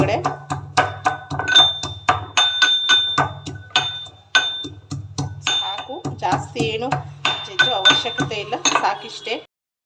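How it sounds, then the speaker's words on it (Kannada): Peeled garlic cloves pounded for sambar, a run of sharp metallic knocks with clinking ringing overtones in a steady rhythm, close by, with someone talking over most of it. "ಒಂದು ಎರಡು ಬೆಳ್ಳುಳ್ಳಿ ತಗೊಂಡು ಸುಲಿದು ಇಲ್ಲಿ ಕುಟ್ತಾ ಇದ್ದೀನಿ ನಾನು ಇವಾಗ"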